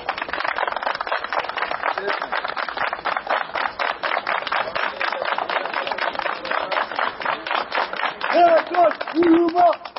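Karsspor football supporters clap together in a fast, even rhythm, the sharp claps repeating steadily throughout while a crowd chants and voices call out over them.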